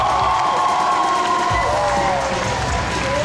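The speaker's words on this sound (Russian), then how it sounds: "Сейчас по вашим аплодисментам мы решим, кто же победил." A school graduation crowd cheers, whoops and applauds loudly and continuously for a dance battle team of newcomers, a dense wall of clapping and shouting throughout.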